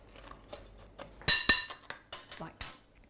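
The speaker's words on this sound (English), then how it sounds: "if you just use a fork, you can just mix" A fork mixes crumble topping with brown sugar in a bowl, giving a string of light metallic clinks and scrapes, a few sharper taps standing out, close and fairly quiet.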